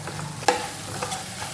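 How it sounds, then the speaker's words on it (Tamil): Spices and onions sizzle in a hot pan while cooking tomato kurma, with a sharp clatter of a spoon stirring and scraping against the metal. "மசாலா சேர்த்து நல்லா கிளறி விடுங்க."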